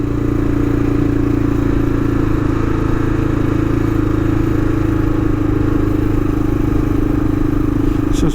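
A motorcycle ridden around a suburb, its engine droning loud and steady throughout with a constant low hum and wind buffeting, no voices.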